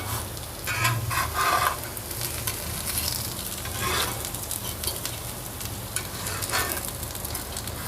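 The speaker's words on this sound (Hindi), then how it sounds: "मैं तवे पे इसलिए फ्राई करती हूँ, इसमें ना इसको पलटना इजी होता है।" Potato cutlets (aloo tikki) fry on a flat griddle with a steady, close crackling sizzle and occasional louder bursts of spattering oil throughout.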